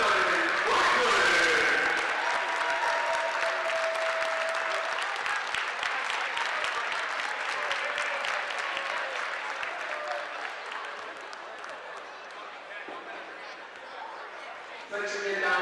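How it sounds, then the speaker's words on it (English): A basketball game crowd at a high school gym bursts into sustained applause, loudest in the opening seconds and holding steady before tapering off, with scattered cheers and chatter mixed in. "let's have a great round of applause"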